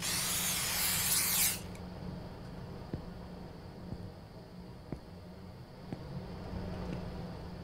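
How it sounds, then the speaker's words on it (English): A spray bottle of rat killer gives one loud, hissing spray burst at the start in a convenience store video game, followed by quiet background hum and faint periodic ticks. "I'm out here, like, exterminating rats with fucking, like, a spray bottle with Mickey Mouse on it?"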